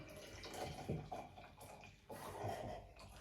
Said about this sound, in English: pour in my hot chocolate.